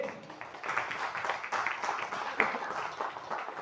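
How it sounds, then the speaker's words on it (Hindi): Audience at a multi-level marketing meeting in Meerut claps together in a steady, moderately loud burst of many hands that holds for several seconds. "तो एक बार ताली बजा लीजिए।"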